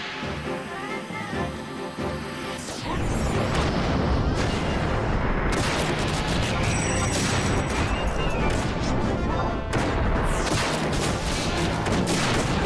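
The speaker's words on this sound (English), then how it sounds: "Explosions everywhere." Final Fantasy XI Online explosions and gunfire erupt in a dense, continuous barrage after a quieter start, loud and chaotic with repeated booms.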